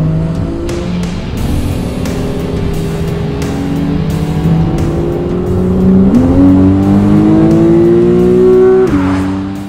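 A Porsche 911 on twisting mountain roads, its engine loud and close as it climbs steadily through the revs, with pitch shifts between gears and a sharp drop as the throttle lifts near the end.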